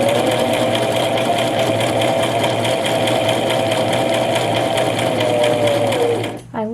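Brother LX3817A sewing machine stitching fabric, a close, fast, even mechanical whir with rapid regular clicking that runs steadily before slowing and stopping at the end.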